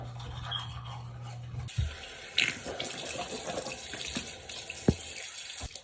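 Water runs from a tap at a bathroom sink while someone washes and brushes their teeth, with brief knocks and clatters of items being handled close by.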